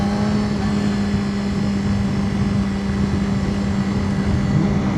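A motorcycle engine runs with a steady, droning hum without a break, low and constant, the sound coming from the engine rather than the replaced exhaust, with no voices over it.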